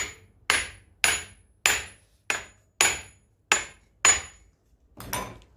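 A hammer striking to drive a front wheel hub bearing and hub into a Daewoo Lanos or Nexia, eight sharp metallic blows at a steady, roughly half-second rhythm, loud and close with brief ringing decays.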